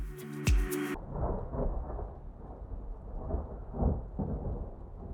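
Stormy weather outdoors: a sharp crack opens the clip, then thunder rumbles low and continuous alongside steady rain. Deeper rolls swell now and then, heard without any voices.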